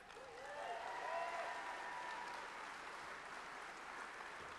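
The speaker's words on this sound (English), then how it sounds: "I think it's time for a round of applause, are Roz and Kath." Applause from staff gathered at a company's 40th anniversary event, steady clapping from a sizable room heard at a distance, fairly quiet, with a faint voice at the start.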